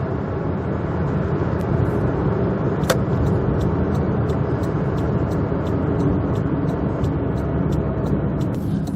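A project car driving on the road, with a steady, constant engine and tyre roar heard from inside the cabin, plus faint periodic ticks and clicks over the drone.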